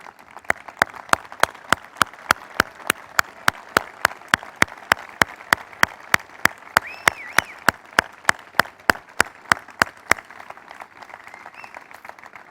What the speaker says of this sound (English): give you a warm round of applause.